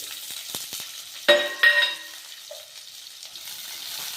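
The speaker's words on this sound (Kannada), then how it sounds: "ಗೋಲ್ಡನ್ ಕಲರ್ ಬರೋವರೆಗೂ ಫ್ರೈ ಆದ್ವಲ್ಲ, ಈಗ ಇದಕ್ಕೆ ಈರುಳ್ಳಿ ಹಾಕೋಣ." Chopped onions dropped into hot oil in a pan for pepper rice, giving a sudden loud sizzle burst followed by a second surge, then settling into a steady softer frying hiss with light stirring.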